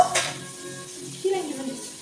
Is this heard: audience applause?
no